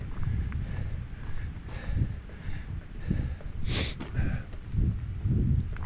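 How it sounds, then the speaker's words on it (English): Foggy mountain wind gusts rush past in the Great Smoky Mountains in irregular rumbling waves, with a brief hissing burst midway. "Very windy now and foggy."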